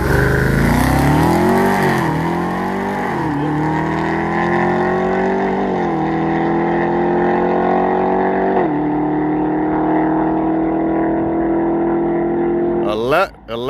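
A naturally aspirated SRT truck with no blower launches hard down a drag strip, its engine loud and close as the revs climb and drop through several gear shifts over about thirteen seconds, with voices talking over it.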